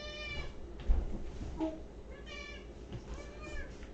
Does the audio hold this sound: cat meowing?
yes